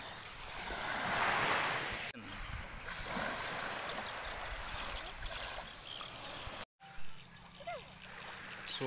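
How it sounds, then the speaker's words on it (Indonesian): Afternoon beach ambience on the Donggala coast, with a soft continuous wash of surf and some wind buffeting the microphone. The sound is fairly faint and steady and breaks off briefly near the end. "Ini suasana pantai sore hari."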